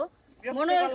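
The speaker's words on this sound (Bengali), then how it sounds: "সকালেও ঝিঝি পোকায় ডাকে, রাইতেও ঝিঝি পোকায় ডাকে," Crickets chirp in a steady high trill beneath a person speaking close by, over one brief second.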